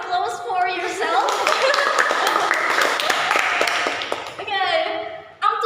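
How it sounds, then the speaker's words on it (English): Students in a classroom clap for themselves after a debate, a lively round of close applause mixed with laughter and chatter, fading out before a voice returns. "Please, first applause for yourself."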